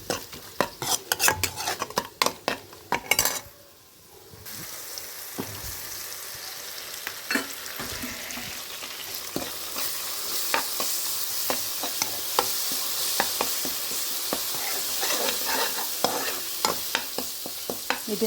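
Egg stuffing frying in a pan: sharp metal spoon scrapes and clinks come first, then a brief hush, then a loud, steady sizzle with occasional stirring knocks.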